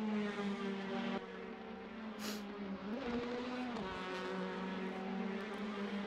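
A Praga R1 race car's four-cylinder engine in a sim racing game at Barcelona, droning steadily at high revs with a brief dip and swell mid-way, loud and continuous with no talking.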